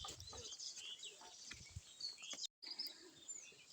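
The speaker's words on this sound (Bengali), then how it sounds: "পাখিদের কিচিরমিচির আওয়াজ" Birds chirp faintly in the countryside near harvested rice fields, with scattered short high calls over a quiet, soft background.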